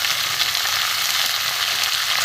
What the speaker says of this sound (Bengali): এর মধ্যে আমি এই যে কাঁকড়াগুলো কাটা আছে, আলুটা মোটামুটি ভাজা হয়ে গেছে, এর মধ্যে আমি দিয়ে দেবো